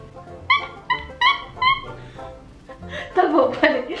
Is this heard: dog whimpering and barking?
yes